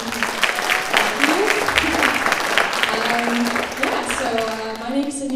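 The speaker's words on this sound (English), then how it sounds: "want to give one more round of applause for Raymond's previous capstone presentation" An audience at a capstone presentation event gives a round of applause, a dense wash of clapping at close range that carries steadily throughout while voices talk over it.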